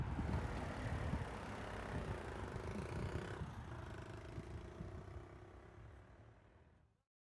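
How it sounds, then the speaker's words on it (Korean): A car engine runs at about 40 km/h as a steady low drone with road rumble, fairly constant and then fading out toward the end, heard alone without voices. "시속 40km로 달리는 차의 엔진 소리"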